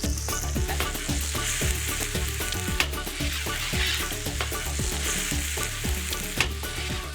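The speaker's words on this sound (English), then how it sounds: "Cook the rice until the grains are shiny." Bomba rice fries in sofrito for paella, a loud continuous sizzle with steady rhythmic stirring scrapes close by throughout.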